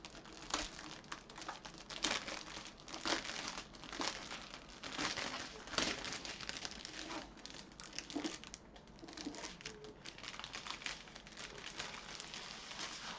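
Package of diamond painting supplies torn and opened by hand, a steady stream of close crinkling and rustling plastic with short tearing bursts throughout.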